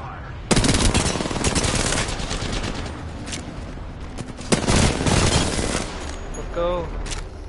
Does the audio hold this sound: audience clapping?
no